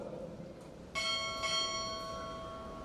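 At a Navy chief petty officer pinning ceremony at Recruit Training Command, a ship's bell is struck twice in quick succession; the loud, close metallic tones hang and slowly fade in an otherwise hushed room.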